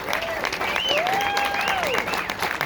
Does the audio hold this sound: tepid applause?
yes